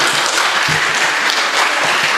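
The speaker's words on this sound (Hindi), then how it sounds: "जोरदार ताली बजाइए।" Audience applause at a mushaira poetry recital, loud continuous clapping from a large crowd throughout.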